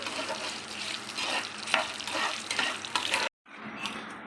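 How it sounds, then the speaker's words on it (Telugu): Peeled garlic cloves fry in a pan with dried and green chilies, a steady dense sizzle and crackle with scraping stirs throughout, close and loud, before a brief cut. "దీంట్లోనే ఒక 12 పొట్టు తీసిన వెల్లిపాయలండి. బాగా ఫ్రై చేసుకోవాలి."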